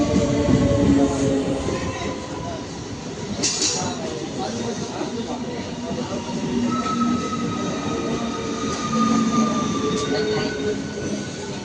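A train pulls into a station, with rumbling wheels, brief metallic squeals and screeches, and a steady loud roar of rail noise throughout, while voices murmur on the platform underneath.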